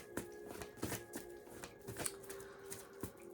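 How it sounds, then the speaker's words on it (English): A deck of oracle cards is shuffled by hand, giving soft, repeated papery riffles and taps close by, quiet and steady with no talking. "give them a shuffle, keep them face down"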